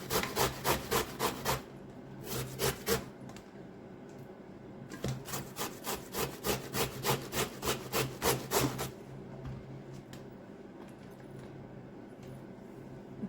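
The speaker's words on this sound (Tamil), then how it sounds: "இப்படி சீவி எடுங்கோ." Snake gourd is scraped on a grater in rapid rhythmic bursts of rasping strokes, loud and close, with pauses between runs and a softer tail at the end.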